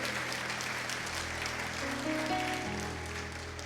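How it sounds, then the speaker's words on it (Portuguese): A congregation applauding during an evening communion service in a church, with steady, dense clapping filling the room alongside sustained organ or keyboard tones, lasting throughout without a clear break. "Você pode aplaudir a Ele, por favor?"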